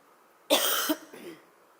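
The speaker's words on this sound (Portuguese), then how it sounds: "eu vou tossir de novo" A single harsh cough from a Portuguese-speaking woman, close and fairly loud, bursting suddenly and trailing off with a shorter second hack in an otherwise quiet room.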